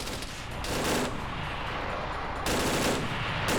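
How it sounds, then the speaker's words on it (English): Sustained rapid automatic fire from a GPMG machine gun in a video game rattles continuously, dense and loud, with a couple of brief surges in intensity. "That's the sound of a turned out GPMG."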